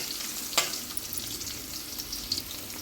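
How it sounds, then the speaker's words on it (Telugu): Dried red chillies, cumin and grated garlic fry in oil for aloo palak curry, a soft, steady sizzle with a few light clicks of a spoon stirring the pan. "చక్కగా ఎండుమిరపకాయలు, జీలకర్ర, తురిమి ఉంచుకున్న వెల్లుల్లిపాయలు, చిన్న పెన్నసరి వెల్లుల్లి గుడ్లు తురిమి ఉంచుకున్నాం కదండి అవి, వేసి బాగా కలపండి."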